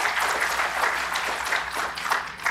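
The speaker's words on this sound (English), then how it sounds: "So a round of applause for them." Applause from a conference audience honoring poster session co-chairs at a neuroscience meeting, a steady round of clapping with slight swells, moderately loud and without talk.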